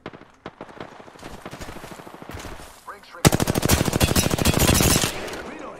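R45 automatic gunfire in a first-person shooter video game, rapid bursts of shots that build into a long, loud continuous stream of fire, with a player's voice briefly audible early on.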